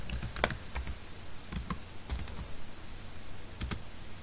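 Typing on a computer keyboard to enter a database command in Open Office Base, with a steady patter of light, close key clicks and a few louder strikes, quiet and without talk.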